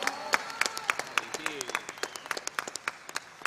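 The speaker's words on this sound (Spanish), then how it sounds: "quiero pedir un aplauso fuerte, por favor, para el chucho, esas empanadas inolvidables" Scattered applause for the empanadas maker at a political committee gathering in Villa Carlos Paz: a modest run of individual claps with voices mixed in, fairly close and moderately loud.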